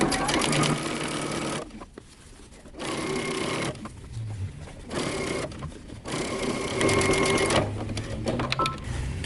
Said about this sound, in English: we're going to be stitching really close to the edge on the facing